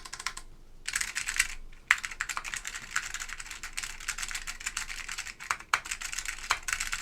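Steady, fast typing on a Baron BP1 mechanical keyboard fitted with orange Alps switches, close and crisp clacking with brief pauses and no voices.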